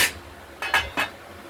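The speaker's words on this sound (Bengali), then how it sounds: "আবার ঢাকনাটা খুললাম" A metal lid is lifted off a cooking pot where bottle gourd and mung dal simmer, giving a few short clanks and clinks, close and fairly quiet, with no voices.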